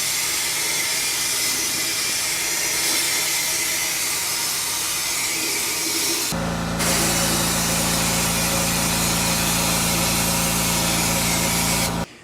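A loud, steady hiss of sandblasting on a metal intake manifold inside a sandblaster runs continuously, with a brief shift in tone partway through and a deep droning hum beneath, no talking.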